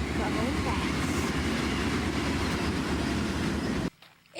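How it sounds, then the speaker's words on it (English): BNSF freight train of tank cars rolling past at speed through the Mojave desert at Amboy, a dense close roar with clattering wheels over the rails that cuts off abruptly near the end; a voice speaks over it. "a BNSF train charges through Amboy by tank cars and headed towards Cajon Pass."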